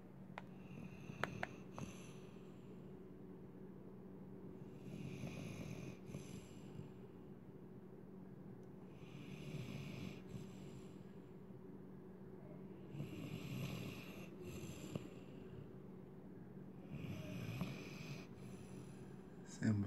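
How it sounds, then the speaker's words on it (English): An XXL pit bull snores, with slow rhythmic breathing. Several soft, wheezy snorts repeat every few seconds, faint and close, over a steady low hum. "snoring."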